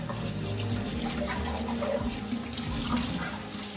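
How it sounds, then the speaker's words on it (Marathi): Hot water runs steadily from a kitchen tap into the sink, a continuous close splashing rush that holds at an even level throughout with no voices. "हाच नळ जर थोडासा तुम्ही असा केला तर इकडे गरम पाणी येतं."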